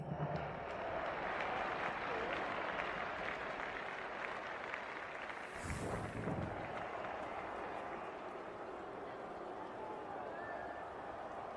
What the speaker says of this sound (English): The crowd already making plenty of noise as the captains come together.